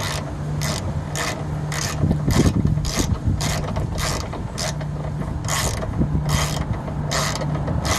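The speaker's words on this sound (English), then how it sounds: "Now we can go through and tighten both sides of our sway bar bushings." On a 2003 Honda Element EX, a ratchet tightens the rear sway bar bushings in steady repeated strokes, each a loud close burst of clicking pawl with a faint underlying hum, and no voices.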